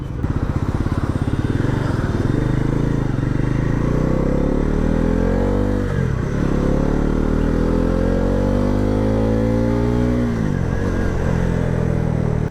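A Bajaj Pulsar NS400Z motorcycle on a test ride, its engine droning loud and close with rising and falling revs as it accelerates through gear changes, under steady wind rush.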